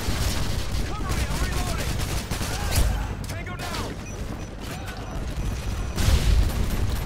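Gunfire in the Call of Duty Modern Warfare 2 video game, including a shotgun, with dense bursts of shots and booms over a busy battle background, moderately loud.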